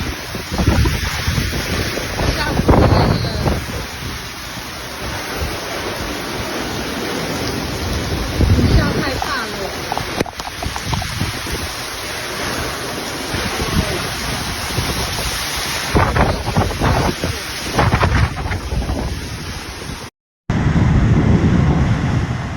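Typhoon Danas winds battering Tainan, Taiwan, roaring loud and gusty with broadband rushing and buffeting on the microphone, heavy rain noise throughout and a brief dropout near the end.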